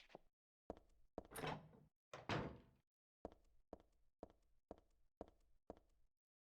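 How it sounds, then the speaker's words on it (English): Metal locker door in a shopping mall in Silent Hill 3 rattling against its latch as it refuses to open: two longer clattering rattles followed by a rapid series of short, evenly spaced metallic thunks, close and clear with no talk. "The locker door won't open."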